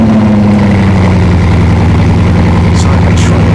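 A Mansory-built Bugatti-style car's engine runs loud and close with a deep, steady low rumble throughout, a couple of brief higher hisses breaking in near the end.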